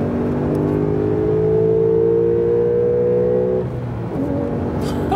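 A Porsche 911 Carrera 4S Cabriolet, 991.2 facelift, accelerates hard in sport mode on the Autobahn, its engine a loud, steadily rising roar climbing through a gear before a brief dip as it shifts and pulls again.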